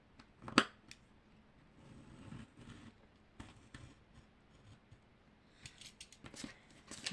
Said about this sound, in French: eh bien, je vais couper.